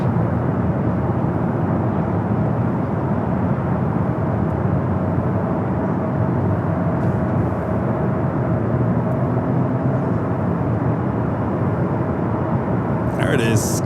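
At LAX, a jet airliner's engines give a steady, loud broadband roar on runway 24 left, sustained throughout, with a brief sharp noise near the end.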